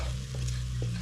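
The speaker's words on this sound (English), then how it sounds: "So I'm stirring in all the" Spices stirred into chicken curry in a pan, a steady low hum underneath with two soft scrapes of the spoon across a brief moment, no voices.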